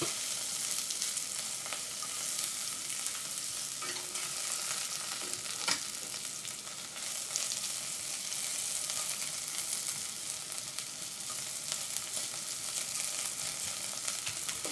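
Vegetables for khao soi frying in a pan, a steady close sizzle with faint stirring scrapes throughout and no talk.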